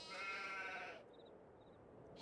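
Sheep bleating in a farm pen in the Silverrun Forest farming game on Xbox, one sustained bleat up front followed by faint, quieter calls, no talk.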